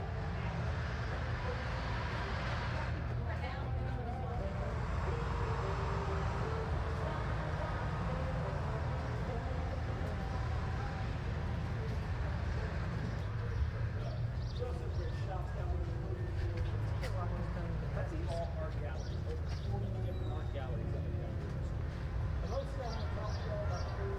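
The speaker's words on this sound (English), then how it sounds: "that's actually all Foley that I recorded on my last visit to New Orleans when I was walking around the French Quarter" Outdoor street ambience from the French Quarter in New Orleans, a steady wash of traffic and city bustle with cars passing and occasional faint birds and distant voices, continuous throughout.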